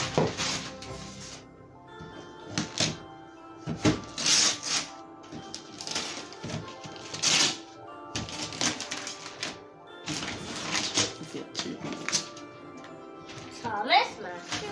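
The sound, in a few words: unwrapping a Christmas present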